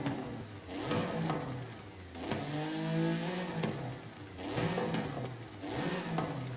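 A modified Toyota Camry engine in Forza Horizon 5 revs up in several repeated pulls, each rising in pitch and dropping back, a smooth mid-pitched rasp heard alone without speech.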